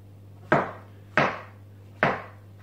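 A knife chops vegetables for pakbet on a board with three sharp, evenly spaced thuds, close and crisp, with a low steady hum underneath.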